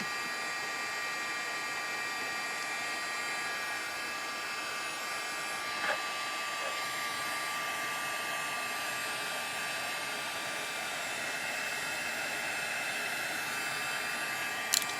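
A heat gun blows steadily to melt embossing powder, a continuous fairly loud airy roar that holds unbroken with no talking.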